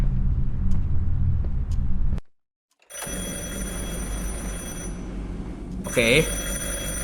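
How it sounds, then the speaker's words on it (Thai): A telephone rings inside a Minecraft horror map, sounding as a sustained electronic ring over a steady rumbling ambience after a brief silence, with a warbling tone rising near the end. "โทรศัพท์นะ"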